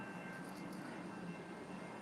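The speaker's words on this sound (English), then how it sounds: "I'm gonna get ready to get on this train" A light rail train in Charlotte, North Carolina gives off a steady, even rumble and hiss that stays at constant strength without voices.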